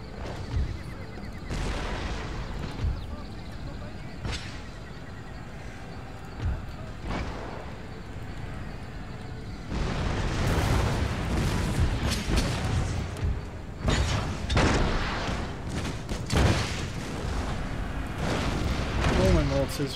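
Cannon round shot artillery fire from a naval or field battle in Empire Total War, heard as several heavy booming blasts with rumbling tails, with talk running over them.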